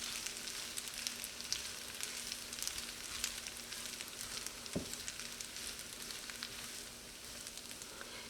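Fusilli pasta stirred with sour cream in a hot pan gives a faint, steady sizzle and crackle throughout, with a soft stirring scrape partway through.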